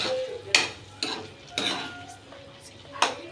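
A metal spoon stirs a pot of boiling fish curry, giving four distinct clinks against the pot over a low bubbling simmer, close and clear with no talking.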